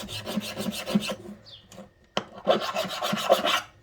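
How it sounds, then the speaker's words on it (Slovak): A hand file rasps back and forth across the rusty contacts of an old electrical contactor in quick rhythmic strokes, close up, broken by a short pause and a sharp knock before the filing resumes. "takže zoberieme pilník. A trošku to vyčistíme."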